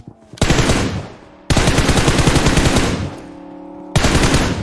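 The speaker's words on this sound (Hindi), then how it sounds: "अबे दूर से भी कोई मार रहा है भाई" Automatic gunfire rattles in long, loud, rapid bursts with brief gaps between them in the mobile battle royale game BGMI (PUBG).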